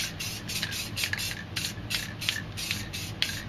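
A can of black spray paint hisses in quick, short bursts, about a dozen rapid passes in a few seconds, close up while painting graffiti with a straight edge.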